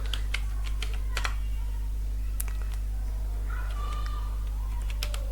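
Keys on a computer keyboard are tapped in short irregular bursts over a steady low hum. The clicks sound close and moderately loud, with brief pauses between runs of typing.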